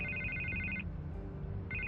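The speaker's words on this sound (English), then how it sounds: "And I can't get the phone to stop ringing." A telephone bell rings in two bursts separated by a short pause, steady and moderately loud over a low background hum.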